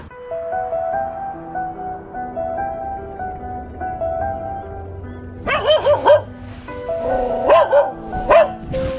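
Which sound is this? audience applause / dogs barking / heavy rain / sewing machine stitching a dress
dogs barking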